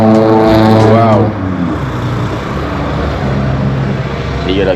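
Lowered car with a big muffler, heard as a loud, close engine roar with a rising revving pitch that fades into a lower rumble as it passes, then swells again briefly at the end.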